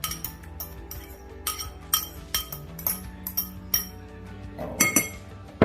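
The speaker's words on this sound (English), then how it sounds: "Get those nice and whisked up." A whisk beating ingredients for keto crab cakes in a glass bowl, making a series of sharp clinks and taps at an irregular rhythm, close and fairly quiet.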